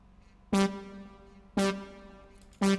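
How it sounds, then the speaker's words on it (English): A brass sample in an Amapiano beat: three punchy, bright brass stabs, roughly one second apart, each with a sharp attack and a sustained tone that fades before the next hit, loud and close with nothing else playing. "I added this brass sample here, which you hear in Amapiano beats"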